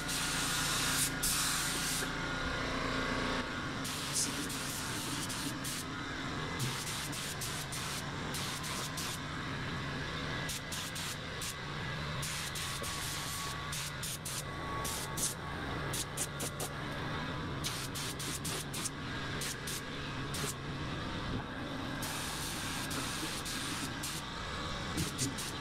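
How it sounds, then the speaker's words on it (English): Paint spray gun running in long bursts, a loud close hiss that starts and stops repeatedly, with short gaps between passes. "It's hard to get a spray gun to paint up too."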